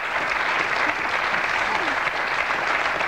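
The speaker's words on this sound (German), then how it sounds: "das ist ein Applaus wert" A live audience applauds steadily at a German football-themed studio show, a dense, even wash of clapping held at a constant level throughout with no talk over it.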